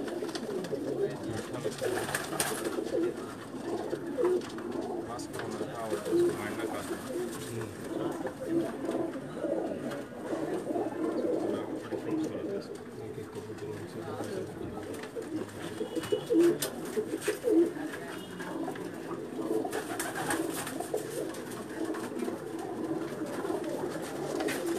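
Pakistani pigeons on a rooftop in Jeddah, Saudi Arabia, cooing repeatedly in soft, overlapping calls over a constant background hum, with faint voices now and then.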